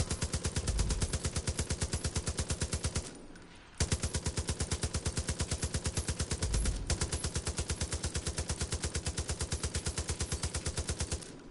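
Long, steady strings of rapid automatic fire from a gun in Far Cry 5, evenly rhythmic and loud, broken by a brief pause around three seconds and a shorter hitch later.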